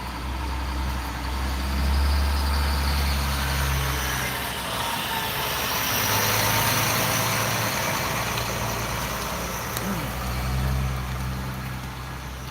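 A noisy truck passes outdoors near a law courts building, its low engine rumble swelling and fading as it goes by and lingering steadily throughout with no talking.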